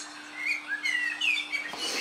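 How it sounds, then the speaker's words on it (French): Electronic bird chirps and tweets played back with rain from a children's sound book, a run of bright whistled calls above a steady hiss, fairly close and heard without talk. "Vous avez le bruit de l'oiseau sous la pluie."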